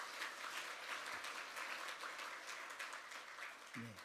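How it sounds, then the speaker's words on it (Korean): Church congregation applauding together, a steady wash of clapping from many hands filling the room at moderate level for several seconds, with brief low murmurs near the end. "우리 박수로 환영해 주시기 바랍니다."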